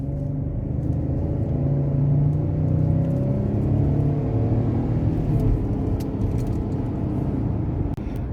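A 2021 Ford F-150 XLT pickup with a naturally aspirated 3.3L V6 accelerates with a steady, rising engine drone and road rumble, heard from inside the cab with no talking.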